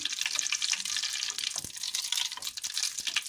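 Oil heating in a pan for green lentil soup, a steady bright hiss and crackle that stays close and constant throughout, with no voices.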